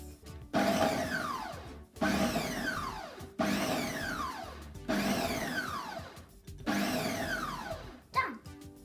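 Food processor pulsing butter with dry ingredients for a cinnamon chocolate tea cake, five loud whirring bursts in even rhythm, each rising and cutting off with brief gaps of near silence between.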